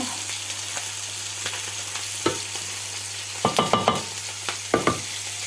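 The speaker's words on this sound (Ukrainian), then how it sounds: "І так буду продовжувати, поки не обсмажу все м'ясо." Young lamb meat sizzles steadily in a hot pan with fried onion under a low hum, with a few sharp clinks and scraping stirs of a utensil.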